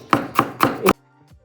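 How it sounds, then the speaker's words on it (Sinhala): Four sharp, evenly spaced chops of habarala plant, cut into small pieces on a hard surface, loud and close, followed by near silence. "මේ විදිහට මම හබරලා කිලෝ එකක් කපලා ගත්තා."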